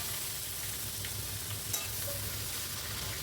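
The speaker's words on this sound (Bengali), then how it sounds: "সবজিগুলো দিয়ে খুব ভালোভাবে নেড়ে নিচ্ছি" Mixed vegetables (pumpkin, okra, potato and ridge gourd) frying in a pan give a dense, unbroken sizzle, with a faint scrape of stirring here and there, close and without talk.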